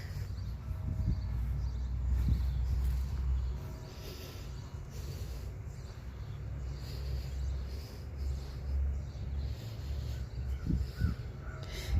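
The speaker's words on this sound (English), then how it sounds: "There's a lot of birds up in here." Birds calling outdoors in Salem, Massachusetts, a few harsh caws rising over a steady low rumble, with scattered calls spread through the stretch.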